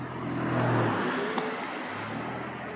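A Denago fat tire step-through ebike, a Class 3 model with a torque sensor, pulls away on throttle alone, its motor giving a steady rising whir and road rumble that swells and holds for a few seconds, close and continuous with no talk.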